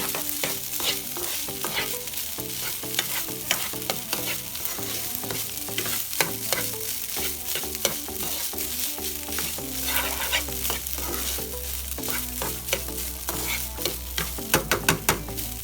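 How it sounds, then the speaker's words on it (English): Rice grains coated in oil stir-fry over medium-high heat for Costa Rican gallo pinto, a steady close sizzle broken by repeated scraping stirs of the spoon against the pan, dense and continuous with no talking. "I'm going to stir that around. Each and every rice grain is covered in oil."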